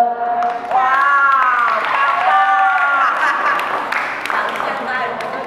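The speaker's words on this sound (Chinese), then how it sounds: "我要掌声" An audience at a gospel event claps and cheers, mixed with loud voices calling out over the applause.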